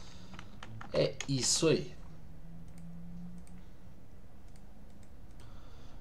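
Computer keyboard typing during an MX Linux installation: quiet, scattered key clicks continue throughout the clip, with a short burst of speech near the start.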